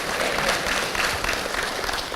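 An audience at an evening prayer service claps in a dense, steady burst of applause, loud and close, with no talk over it.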